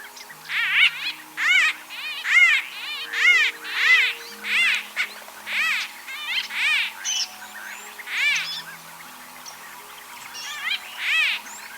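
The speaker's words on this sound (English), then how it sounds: "we got a bee eater video here." White-fronted bee-eater chicks calling, a steady series of high, squeaky chirps repeating about once a second, fairly close and clear with no other sounds.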